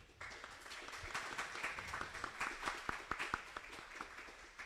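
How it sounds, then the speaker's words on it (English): A small audience at a Formula Student Poland panel claps for a panel member: faint, scattered handclaps that gather into a brief patter, with individual claps standing out near the end. "Big applause."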